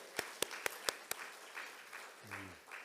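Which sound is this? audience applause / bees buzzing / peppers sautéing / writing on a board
audience applause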